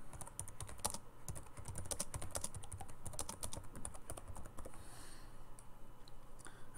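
Steady, rapid typing on a computer keyboard entering a badge description in Blackboard, close and clear with dense key clicks that pause briefly near the end before resuming.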